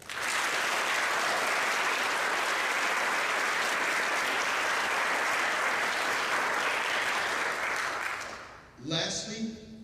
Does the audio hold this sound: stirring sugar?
no